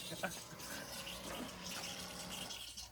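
Water gushing steadily from a Camplux portable propane water heater under strong pressure, a broad continuous hiss of flow throughout with a voice talking faintly over it.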